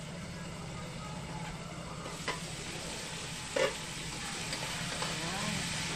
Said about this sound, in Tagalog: Balikan natin ang ating ginigisa.